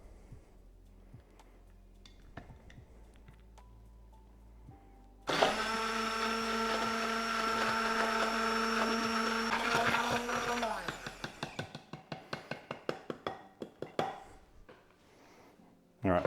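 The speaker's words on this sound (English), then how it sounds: "what I'm going to use is my stick blender." Stick blender whirring through egg yolks, starting abruptly with a loud, steady high-pitched motor whine that runs several seconds, then cuts off into a series of clattering knocks and taps.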